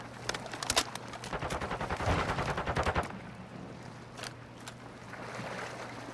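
Rapid automatic gunfire in Call of Duty: Modern Warfare II, a player shooting through a wall, rattling in a fast, steady burst for a few seconds, then giving way to scattered, fainter shots over a low hum.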